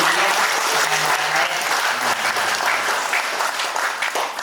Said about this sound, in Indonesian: Tepuk tangan dong untuk Bu Peggy sedikit.